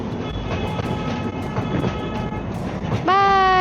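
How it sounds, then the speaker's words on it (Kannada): The small park train at Kadri Park rumbles past with a steady rolling drone, then sounds a loud, sustained horn near the end, close by. "ಇದು ನಮ್ಮ ಕದ್ರಿ ಪಾರ್ಕಿನ ಟ್ರೈನ್."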